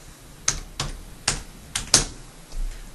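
Several separate keystrokes on a computer keyboard as a password is typed, about five crisp clicks spaced unevenly over a few seconds, close and fairly quiet in a still room.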